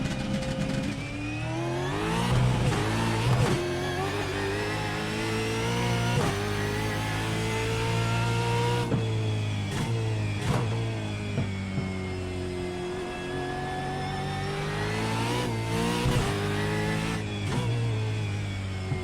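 Gen 3 Supercar engine in iRacing at Sandown howls through gear changes and bounces off the rev limiter, a continuous buzzing race-car drone with sharp shift breaks and stuttering limiter pulses.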